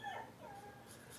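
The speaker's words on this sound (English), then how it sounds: "Do you guys hear my puppy crying?" A puppy stuck outside a door whimpers and whines in short, high, thin cries, slightly muffled through the door, with faint background noise.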